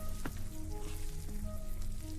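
Food frying in the MiSide video game kitchen, a soft continuous sizzle with faint clicks and crackles, fairly quiet and steady throughout, no voices.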